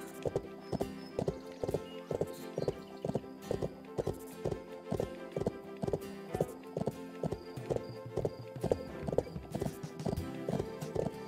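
Horse hooves in the Bibi & Tina horse-riding video game clip-clop in a quick, even rhythm of sharp synthetic hoofbeats over a soft looping background, with an occasional whinny.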